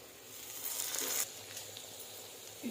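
Onions and coriander fry in a pan for ridge gourd curry, giving a soft, steady sizzle with a brief louder crackling burst partway through.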